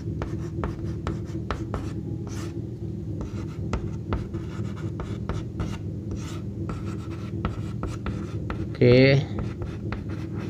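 Handwriting out a class 12 maths solution on determinants, minors and cofactors, a steady scratchy rasp of pen strokes running throughout under continuous spoken explanation, with a brief louder scrape near the end.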